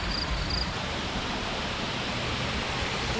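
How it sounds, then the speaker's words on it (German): A tall waterfall on Flores in the Azores, roughly 80 metres high, roars as a steady, dense rush of falling water that fills the scene evenly and continuously with no voices over it. "Wir wollen heute vorm Frühstück in diesem Wasserfall schwimmen."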